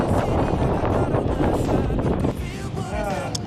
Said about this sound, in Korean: 바람이 불고 있어요.